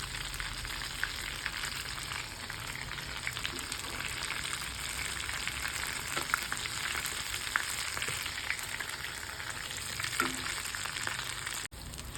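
Soya kheema balls shallow-frying in hot oil, a continuous close sizzle and crackle with occasional soft pops and spatters, with no talk over it.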